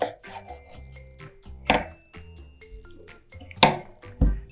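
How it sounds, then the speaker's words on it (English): A knife slicing down the tough side of a whole pineapple, giving several crunchy, juicy chops and rasping cuts spaced unevenly, close and fairly clear with no talk. "we'll take the knife and just kind of ride right along the side"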